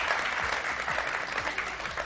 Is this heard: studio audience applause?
yes